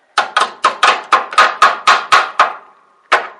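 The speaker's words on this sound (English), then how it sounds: "these bushings, I need to get something to knock them out with" Old front wheel bushings being knocked out of a riding lawn mower's front axle assembly: about ten sharp metallic strikes in a steady, quick rhythm, close and loud, then a pause and one final blow, with no talking.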